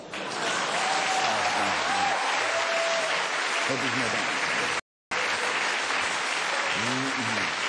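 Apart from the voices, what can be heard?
audience applause at cabaret award show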